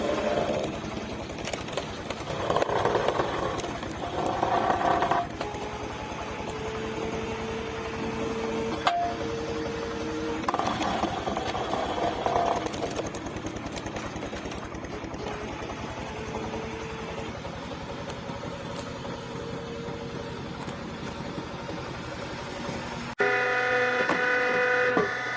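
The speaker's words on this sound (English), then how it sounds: "The hydraulic wood splitter from Perzeboro is not just a tool." Engine of a Polish-made Perzeboro hydraulic wood splitter runs steadily for the whole stretch, a continuous mechanical hum with shifting pitch and a few bursts of louder machine noise, then a brief change near the end.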